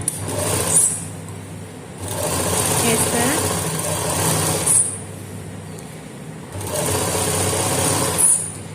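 A sewing machine stitches a binding strip onto a round fabric neckline in three sustained bursts with brief pauses between them, while a voice talks over the work.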